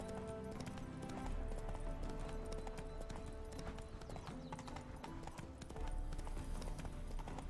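Steady clip-clop of a horse's hooves trotting in The Witcher 3, with an occasional whinny, over a busy game soundtrack with music and ambient noise.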